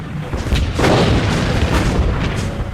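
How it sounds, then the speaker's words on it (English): Heavy main guns of the battleship Bismarck open fire on the older battleship Rodney in a naval battle. A deep, loud boom swells into a sustained rumbling roar that fills the whole stretch. "Lütjen's first act was to open fire on the aged battleship Rodney."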